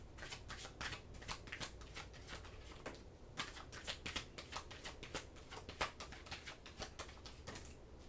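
Tarot cards are shuffled by hand in quiet, rapid riffling flutters and soft slaps, repeating steadily and close up with no talking.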